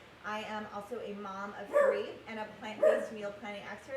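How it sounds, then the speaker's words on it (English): A pet dog barks and yips intermittently in the background of a home kitchen, with two louder bursts over a few seconds, partly under a woman's steady speech. "that's my dog"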